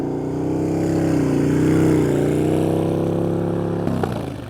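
Engine revving under throttle as the rider eases on, a loud sustained droning tone that rises and wavers steadily, then a sharp shift in pitch near the end, with no talk.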